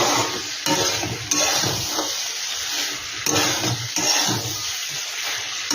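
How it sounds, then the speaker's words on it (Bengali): Lukewarm water poured into a cooking pot while making a home-style soybean dish, a steady close splashing wash with a few sharper surges, no talking. "এবার এখানে আমি জল দিয়ে দেবো। আমি কিন্তু জলটা একটু উষ্ণা গরম করে রেখেছি"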